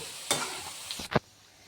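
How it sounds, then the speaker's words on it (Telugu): Chicken pieces fry in hot oil until golden brown, a soft sizzle broken by a few sharp stirring scrapes in the pan, close and fairly quiet. "ఇలా గోల్డెన్ బ్రౌన్ కలర్ వచ్చే వరకు ఫ్రై చేసుకోవాలి"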